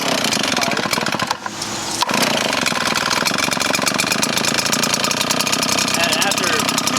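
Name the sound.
RedMax EBZ 8500 backpack blower engine starting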